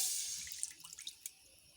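Water poured from a cup into a cooking pan on a home kitchen stove, a short soft splashing trickle with a few faint drips, quiet and heard alone.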